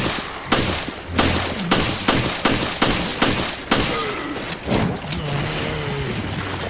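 Jessica's G18 pistol firing in Resident Evil: Revelations, a run of sharp, loud shots in quick bursts over a steady game background, with rumbling impacts and scattered effects after the firing stops.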